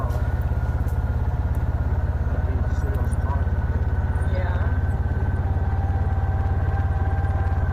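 A four-wheeler's engine runs steadily and loudly up close on a mountain road in the Blue Ridge Mountains of North Carolina, a continuous low throbbing drone that stays even throughout.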